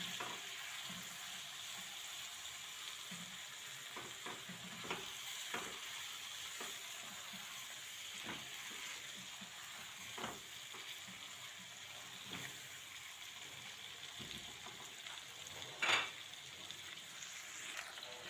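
Tomatoes and a spoonful of tomato paste sauté in a pan, a soft steady sizzle with repeated scraping stir strokes, close but quiet, and one sharper clink near the end.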